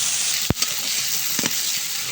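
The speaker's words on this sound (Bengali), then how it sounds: "এবার সবগুলো একসঙ্গে নাড়াচাড়া করে একটু মশলাটা ভালোভাবে কষিয়ে নিব" Masala with turmeric being stirred and fried in a pan, a continuous hiss of sizzling broken by two sharp scrapes of a spoon against the pan.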